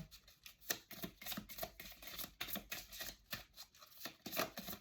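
A deck of oracle cards is shuffled by hand at close range, giving a steady run of soft, rapid papery riffles and flicks that repeat for several seconds with no talking.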